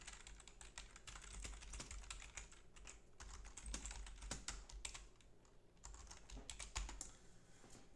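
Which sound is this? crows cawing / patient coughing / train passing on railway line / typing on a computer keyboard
typing on a computer keyboard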